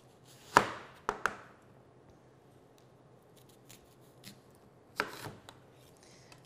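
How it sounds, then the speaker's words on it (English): A knife slices an onion into rings on a board, giving a few sharp, close crunching cuts separated by quiet pauses. "you're gonna cut these into rings as wide as you want"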